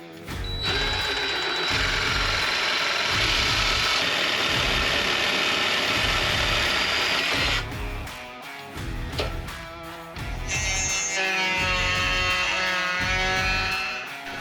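A small hand file breaks the edges of a machined aluminium motorcycle phone mount part. Close, steady rhythmic rasping strokes repeat for the whole stretch, with brief pauses and no talking.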